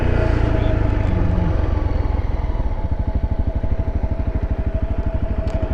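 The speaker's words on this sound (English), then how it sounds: "This bike won't power wheelie itself up" A motorcycle engine in first gear during a wheelie attempt, loud and close: a steady low idle-like drone gives way to a rapid, pulsing throttle chug that continues to the end.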